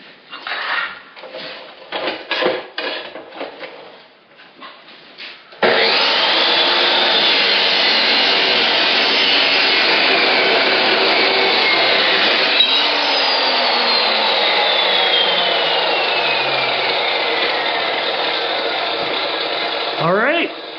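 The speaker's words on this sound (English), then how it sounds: "see if we can cut off a little piece of steel, see if it works with our cutoff saw" Battery-powered Milwaukee cutoff saw grinding through a piece of steel, a sudden loud, continuous high whine sustained for about fifteen seconds and then stopping, preceded by handling clatter and brief talk.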